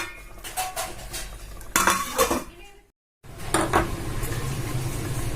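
Metal clatter of a cooking pot lid being lifted during chicken salna cooking, with a couple of clanks and cutlery clinks close by, followed by a short pause and a steady bubbling simmer.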